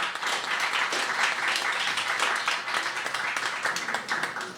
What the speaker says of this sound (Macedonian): ќе ве замолам за учениците еден голем аплауз